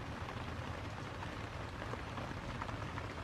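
Steady rain falling outdoors during air conditioner maintenance, a continuous dense hiss of drops on surfaces at an even moderate level throughout, with no talking.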